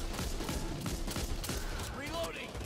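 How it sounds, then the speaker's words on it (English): Rapid gunfire crackles through a Back 4 Blood firefight, a dense run of sharp shots layered under a voice. "I'm already getting shot on my damn bed."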